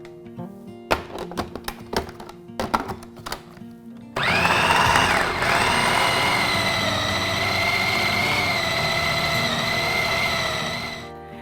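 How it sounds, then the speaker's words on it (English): Food processor grinding ground meat mixture for gyros, a loud steady motor whir that runs for several seconds and then winds down, preceded by clattering knocks. "now that our mixture is done in the food processor"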